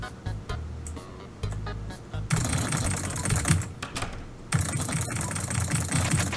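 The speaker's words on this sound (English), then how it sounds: "because you're gonna hear a lot of keyboard noises during this date" Keyboard typing sounds in the video game Undertale, a rapid clatter of key clicks in bursts, loud and close, with short pauses between runs and no talk.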